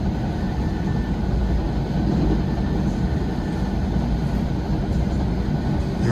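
An NJ Transit passenger train running past a siding: a steady, loud, broadband rumble and roar of the moving train that holds evenly for several seconds, with no voices.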